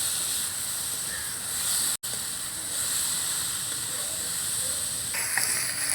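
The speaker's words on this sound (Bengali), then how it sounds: "উনুনের আঁচটা মিডিয়ামে রেখে ঢেঁড়সগুলো ভেজে নিতে হবে।" Okra frying in oil over medium heat gives a steady, close sizzling hiss that carries on evenly with one brief cut near the start.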